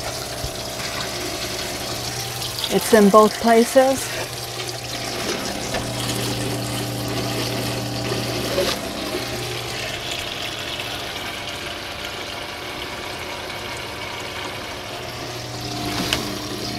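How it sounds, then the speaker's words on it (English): Steady flowing water with a low pump hum running throughout, as a camper van's water system is dewinterized, a brief burst of gurgling splashes near the start, and a few faint words spoken. "Here comes the water."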